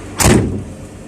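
An excavator cab door swings shut in one close, loud, heavy thud with a brief rattle, then a low steady hum continues.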